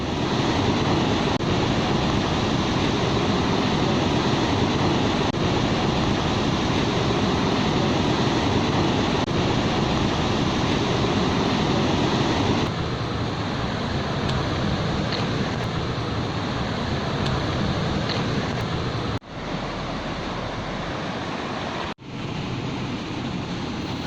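A continuous roar of falling water from Curug Dendeng waterfall near Bogor, surrounded by rock cliffs, rushes steadily throughout, a loud, broadband wash with no voices.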